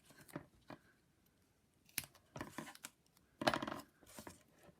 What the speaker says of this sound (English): You'll notice that my scissors are working today.